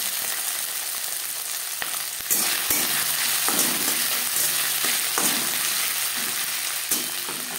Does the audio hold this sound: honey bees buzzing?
no